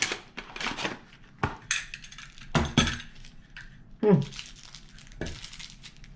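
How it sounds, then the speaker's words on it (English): Cardboard parcel box from a Temu order being opened by hand: crinkling packing material, tearing and rustling, with intermittent clinks of small hardware inside, in a series of close, uneven bursts. "So let me open this box up."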